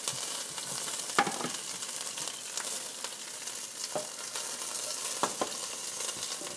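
A very hot pan sizzles steadily while grouper cooks, with occasional sharp pops and spatters breaking through a constant hiss, close by and moderately loud, with no talking.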